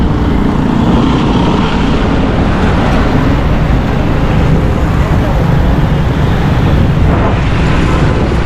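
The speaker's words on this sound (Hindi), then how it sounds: "बहुत तेज़ हवा चलना शुरू हो चुकी है।" Strong storm wind in Karachi roars steadily and loudly, a dense continuous rush buffeting the microphone, with a faint traffic rumble beneath and no talking.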